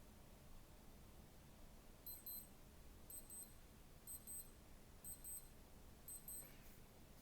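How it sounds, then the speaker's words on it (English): Alarm on a Casio Tide Moon WS1700H digital watch: five short bursts of high double beeps about a second apart, faint over a steady background hiss, no voices. "And that's what the alarm sounds like."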